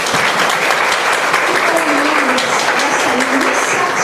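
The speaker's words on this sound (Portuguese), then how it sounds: "eu queria assim, uma salva de palmas para todos nós" Audience at a welcome session of a spiritual gathering breaks into sustained applause, a loud, even roar of many hands with a few faint voices underneath.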